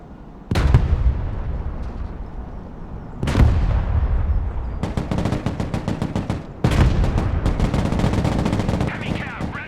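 Tank cannon and machine-gun fire in the Broken Arrow video game, heavy booming blasts at intervals with rapid bursts of gunfire between them, loud and close with a continuous battle rumble underneath.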